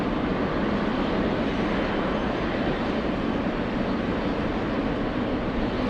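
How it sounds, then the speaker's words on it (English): A Cessna aircraft passes by near LA, a loud, steady engine drone and broadband roar that holds throughout without fading, with no voices. "there goes the Cessna"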